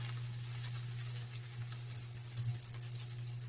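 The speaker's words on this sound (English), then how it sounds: "just hold it down in the pan and sear it closed" A peppered pork loin searing in a hot pan gives a quiet, steady sizzle and hiss with a constant low hum underneath, soft and continuous, with no talking.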